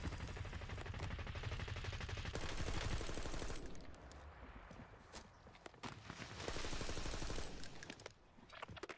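Call of Duty Warzone firefight with sustained automatic gunfire and sharp shots, loud and continuous with brief gaps, mixed with game effects and faint voice chat.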